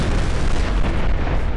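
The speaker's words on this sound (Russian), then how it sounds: "Ребята, есть очень классная у нас бомба. Сейчас я вам покажу. Она очень классно взрывается." A bomb detonating in Garry's Mod, a dense, loud, sustained blast roar filling the whole moment without any voices.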